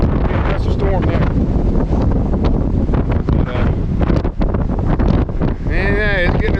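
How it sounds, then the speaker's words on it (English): Strong storm winds roar and buffet outdoors in a continuous loud rush, with heavy gusts battering the microphone and a voice talking faintly beneath the din. "That's a storm there."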